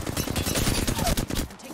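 Rapid automatic gunfire in a battle royale style shooter video game. Dense, loud bursts run continuously through the short moment, with a faint voice underneath.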